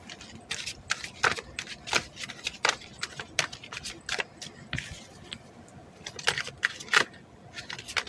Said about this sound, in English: I'm going to pull some cards for you,